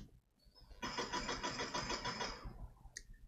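A new small electric motor with an encoder, driven by an Arduino during a frequency response test, spins up and whines steadily for under two seconds before cutting off, followed by a short click.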